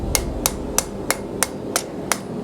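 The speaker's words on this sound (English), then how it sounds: "Now the rest I'm going to be able to do with a hand hammer." A hand hammer striking hot metal in a blacksmith's forge rings out in seven sharp, evenly spaced blows, close and loud over a low background rumble.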